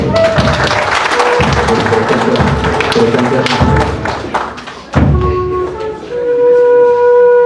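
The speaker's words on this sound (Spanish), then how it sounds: "Y también recibimos al Padre Arturo con fuerte aplauso." Loud applause at a church wedding ceremony as the congregation welcomes the priest, dense clapping mixed with heavy thuds and knocks, dipping midway, then giving way to sustained tones.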